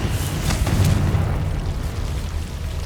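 A Confringo fire-blast spell explodes in the Hogwarts Legacy video game, a loud rumbling boom that stays heavy and sustained for a few seconds.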